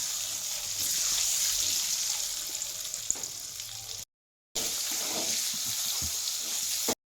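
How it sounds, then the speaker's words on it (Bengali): Eggs frying in oil in a pan, a steady close sizzle that runs on with faint stirring and a brief dropout before the crackle resumes. "ভালো করে তেলের মধ্যে দিয়ে ডিমটাকে ভালো করে ভেজে নিচ্ছি।"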